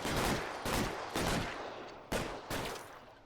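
Gunshots in the 1940s detective game LA Noire ring out as about six sharp, fairly quiet reports spaced unevenly over three seconds, each with a short echoing tail.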